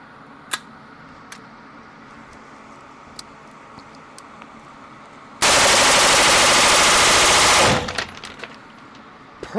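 Rifle with a 7.5 inch barrel and an Atrius Selektor trigger emptying a magazine in one loud rapid burst of about two seconds, preceded and followed by faint handling clicks.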